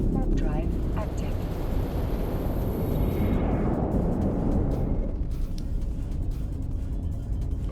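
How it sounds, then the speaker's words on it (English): Spaceship warp drive engaging in EVE Online, a loud roaring whoosh with a high whine that sweeps downward and fades into a deep rumble. "Warp drive active."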